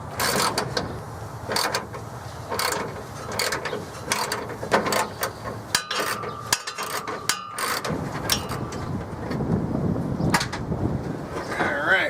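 A radiator is worked loose and pulled out of a 1978 Ford F-100, heard as repeated metallic clanks, clicks and scraping knocks in irregular bursts, fairly close, with someone talking intermittently.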